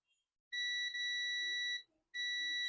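A multimeter in continuity mode beeps steadily while testing for a short on a Dell Latitude E5250 logic board, giving a loud, clear electronic tone that sounds for about a second, stops briefly, then resumes.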